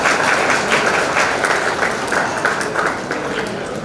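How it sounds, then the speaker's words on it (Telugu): Guests at an engagement ceremony clap together in steady, dense applause that holds for a few seconds, then eases slightly toward the end. "ఓకే, అందరు చప్పట్లు కొట్టండి."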